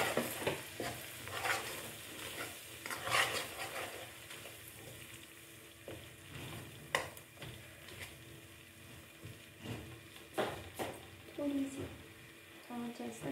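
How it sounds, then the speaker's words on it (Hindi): Two cups of gram flour (besan) fry and are stirred in a pan for halwa. A soft, steady sizzle runs throughout, broken by repeated scraping strokes and faint background voices. "दो कप हमारे पास बेसन है और इसमें होगा अच्छे से फ्राई।"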